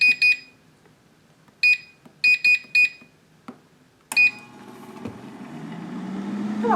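Air fryer beeping as it is set, a series of sharp electronic beeps in short separate presses, then a click and a rising fan whir as it starts.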